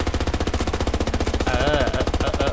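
P90 submachine gun fire in the shooter game Battlefield 2042, a loud, close, unbroken rapid burst of evenly spaced shots running through the whole stretch.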